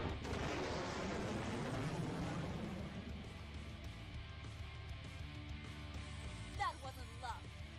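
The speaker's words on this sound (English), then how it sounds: "so we can shoot our kinetic cannons at them" Kinetic cannons fire at ships in the space strategy game Sunrider, a heavy rumbling barrage that is loudest at first and then thins into layered booms and blasts under game music.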